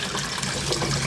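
Hot water rushes steadily into a dirty secondhand Beko washing machine, a loud, continuous gushing flow at close range.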